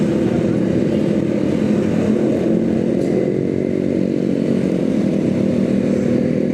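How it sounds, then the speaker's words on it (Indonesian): A motorcycle rides through afternoon traffic on the road from Cikeas to central Jakarta, its engine a loud, steady, close drone that holds level throughout with no talking. "Kondisi di sore hari masih dipadati kendaraan roda 2 ya teman-teman."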